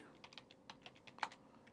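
Computer keyboard typing Java code, a quick run of light, irregular key clicks at close range with one sharper keystroke near the end.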